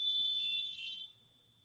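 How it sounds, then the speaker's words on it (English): Smoke alarm giving a sustained shrill electronic tone, loud through most of the clip and then quieter as it continues, with faint low room sounds beneath and no talk. "that ain't your fire alarm"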